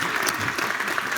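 A conference audience at Front 2016 in Salt Lake City gives a quick round of applause, dense and even clapping from many hands filling the whole brief moment.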